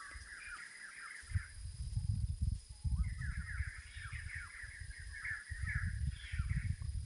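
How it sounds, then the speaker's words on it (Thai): Birds call loudly and repeatedly in a mountain forest, harsh crow-like caws overlapping in bursts over a constant low rumble, fairly close. "เสียงนกเจี้ยวจ้าวเลยครับ"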